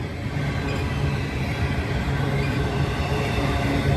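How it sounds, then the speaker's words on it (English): Long Z freight trains rumble past on the line toward Cajon Pass, a steady, loud, continuous roar of rolling railcars with faint wheel squeal and no voices. "Couple long Z trains."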